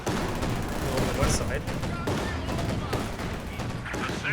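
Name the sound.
MG42 machine gun fire in the video game Company of Heroes 2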